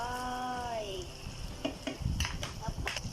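Fresh mild chilies tumble into a frying pan with ham, a low sizzle under a few light clatters and scrapes of stirring, with a fading tonal hum at the start.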